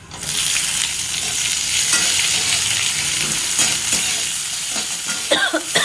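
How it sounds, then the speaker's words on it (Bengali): Onion sizzling and frying in a pan while being stirred, a steady close crackle of hot oil with occasional scrapes and clinks of the utensil, no voices. "পেঁয়াজটা নাড়াচাড়া করে"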